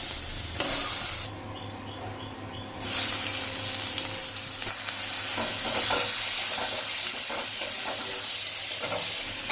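Potatoes fry in oil in a home kitchen, a bright continuous sizzle and hiss with occasional stirring clicks, close and steady after a brief quieter dip near the start, no one talking.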